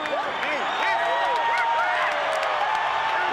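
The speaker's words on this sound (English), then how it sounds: "The crowd supporting Marco Antonio Barrera." A boxing arena crowd cheers for Marco Antonio Barrera at his third fight with Erik Morales, a dense, steady roar with whistles and shouts heard under a commentator's voice.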